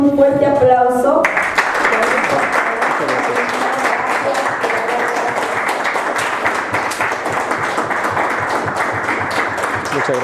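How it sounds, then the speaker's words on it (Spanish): Sustained applause from a conference audience at a question-and-answer session, dense and steady clapping filling the room for about ten seconds after a brief moment of voices at the start. "de verdad le brindamos un fuerte aplauso"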